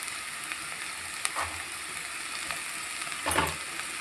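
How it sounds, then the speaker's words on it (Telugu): Capsicum sizzling in a pan for vegetable semiya pulao, a steady frying hiss close up, with a few scraping clinks of a spoon stirring. "ఇప్పుడు మనము క్యాప్సికం వేసుకోవాలి."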